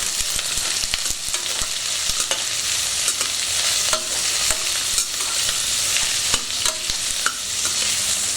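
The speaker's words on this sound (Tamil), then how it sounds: "இந்த வெங்காயம் மட்டும் சிம்மில் வச்சு தான் வதக்கணும் பிரியாணிக்கு" Onions for chicken biryani sautéing in a pan with a loud, steady sizzle throughout, broken by frequent scraping stirs and small pops, close and with no talk.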